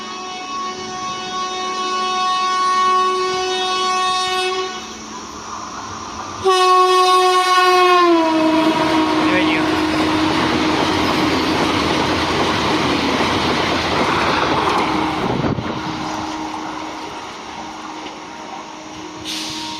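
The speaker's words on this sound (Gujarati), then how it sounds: "જોઈ લો, વંદે ભારત આવે છે" Vande Bharat express train passing through a crossing, opening with a sustained horn blast, then a sharp second horn and a loud rushing roar of coaches sweeping past close by, fading to a lingering horn tone at the end.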